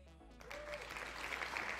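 Dense clapping from a crowd of avatars in a Roblox epic minigames server, a continuous spattering wash that swells over the clip with a low hum underneath.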